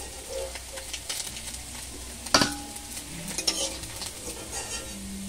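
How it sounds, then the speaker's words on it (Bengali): Small mourola fish frying in a pan, a close, continuous oily sizzle dotted with crackles and pops, including a sharp louder spatter or utensil clink partway through, with no talking. "বাকি যে মাছগুলো আছে সেগুলোও আমি ভেজে নেব।"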